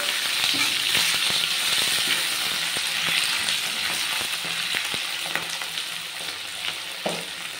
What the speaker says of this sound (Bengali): বড় টমেটো কুচিটা দিয়ে আমি একটু নেড়ে চেড়ে ভালোভাবে ভেজে নিচ্ছি পেঁয়াজটার সাথে।